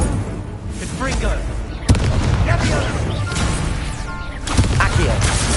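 Confringo fire spell blasts in Hogwarts Legacy gameplay on PS5: heavy booming impacts with crackling bursts, repeated loud hits over dense game sound and talk.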